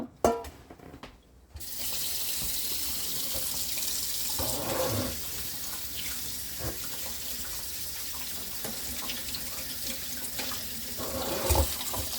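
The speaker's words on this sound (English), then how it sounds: "we will strain it and put it under cool water immediately" Cool tap water runs steadily from a kitchen faucet over freshly blanched almonds straining in a sink, a continuous close splashing flow that begins after a brief quiet start and carries on to the end.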